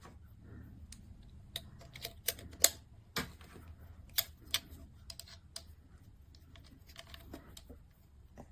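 A blade is popped into a ball-bearing rotary cutter for fabric and its cover screwed back on: quiet, close, scattered plastic and metal clicks and ticks, irregularly spaced, over near silence.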